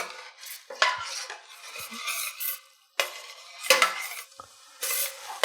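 A utensil scrapes and stirs across a pan while wine cooks off over the heat, rough scraping strokes in uneven bursts with short pauses and a light sizzle underneath, close up.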